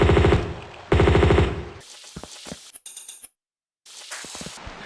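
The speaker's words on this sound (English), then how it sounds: "something's still shooting at me" Gunfire in Tomb Raider 2 arrives as two loud bursts of rapid automatic shots, followed by scattered single shots and clinks, a brief silence, then more shots.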